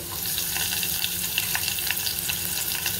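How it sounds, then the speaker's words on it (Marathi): Chopped green chillies sauté in a pan of hot oil for a mixed-dal curry, giving a steady, close sizzling hiss broken by soft scrapes and light stirring clicks, with no voices. "हे पण परतून घ्यायचे आपल्याला।"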